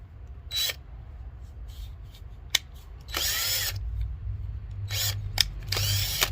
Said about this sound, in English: So I got to drill it a little more.